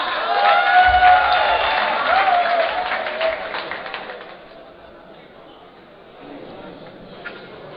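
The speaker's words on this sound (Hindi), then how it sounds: "आपकी भरपूर तालियों में" Audience at an Urdu poetry event applauds and cheers, loud mixed clapping and crowd noise at first that gradually thins out and fades to a quieter murmur.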